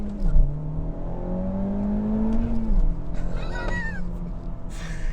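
A 2018 Honda Civic Type R engine pulls hard under acceleration, a loud close drone that rises in pitch, dips at a shift and climbs again.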